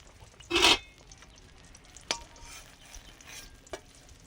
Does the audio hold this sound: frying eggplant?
yes